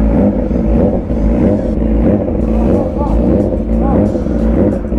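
Yamaha R6 motorcycle with an autoblipper runs its auto warm-up, revving by itself in repeated loud throttle blips close by, with a person talking over the engine.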